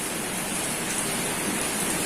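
Steady rain falling outside, a dense continuous hiss that stays even and fairly loud throughout, heard from indoors during electronics repair work with no talking.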